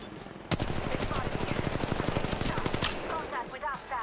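Distant automatic gunfire in Apex Legends Mobile rattles in one long, evenly spaced burst of rapid shots, then trails off into scattered quieter sounds.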